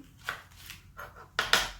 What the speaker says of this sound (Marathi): अशा पद्धतीने आपण भेंडी सगळी चिरणार आहोत